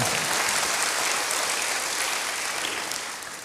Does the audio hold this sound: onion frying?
no